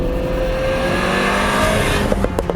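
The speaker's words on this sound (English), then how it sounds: "The car keeps shouting and swearing through the exhaust pipes, which is quite entertaining" Mini Cooper JCW engine and exhaust in sport mode, a loud, close, steady growl that builds over a couple of seconds, with sharp crackling pops from the exhaust near the end.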